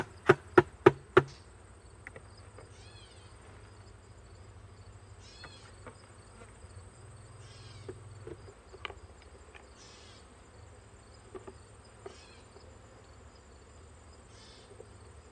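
Faint buzzing of bees in a jar in short scattered bursts after a few sharp knocks at the start, with quiet stretches between.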